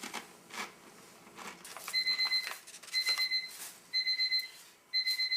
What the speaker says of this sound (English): So that's the timer to pull the pasta out of the hot water.